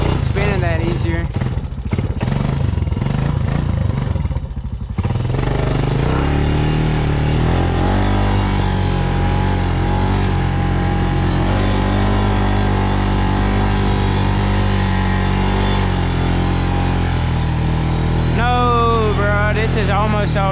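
A Honda Recon ATV engine revs hard while its wheels spin and bog in mud on a muddy trail. The loud engine drone rises and falls continuously and close by, with someone talking over it at times.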